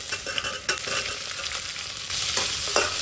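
Potatoes frying in a pan with onions and whole spices such as dried chilli, black cumin and bay leaf, stirred steadily through a continuous close sizzle with a few scraping strokes and no talking.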